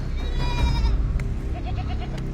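A mountain goat bleats in a short series of wavering cries over a low rumbling background, close and fairly loud, on a steep slope in summer in Canada.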